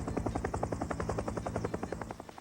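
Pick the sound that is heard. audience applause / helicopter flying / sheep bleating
helicopter flying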